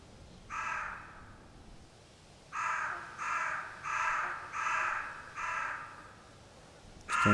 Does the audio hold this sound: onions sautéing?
no